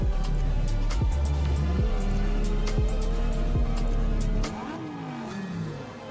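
A Pagani Italian supercar engine in the video game Test Drive Unlimited Solar Crown, revving hard through several rising gear pulls with quick shift breaks, loud and close, before dropping to a quieter, lower drone near the end.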